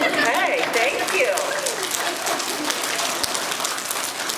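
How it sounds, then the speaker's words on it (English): An audience at a school awards assembly claps steadily throughout, a dense patter of hands filling the hall, with voices talking over the applause near the start. "they're going to give you a clap"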